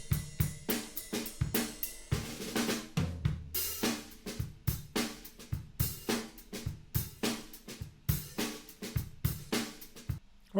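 A live drum kit recorded through one stereo mic, processed with a compressor, EQ and light reverb, plays a steady rock beat with tight, punchy kick and snare and bright crashing cymbals, close and even in level, without talking.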